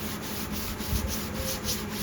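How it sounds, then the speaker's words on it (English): Steady scratchy rubbing of a sanding sponge across a pine guitar body finished with tung oil, with a repeated back-and-forth rhythm, close and fairly quiet, no talking. "get you a sanding sponge."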